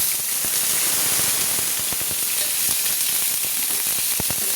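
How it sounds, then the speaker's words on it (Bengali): Chopped onion fries in hot oil in a pan for a papaya curry, giving a loud, constant crackling sizzle with scattered sharp pops throughout and no talking. "তো পেঁয়াজগুলোকে আমি একটু লাল লাল করে ভেজে নেব"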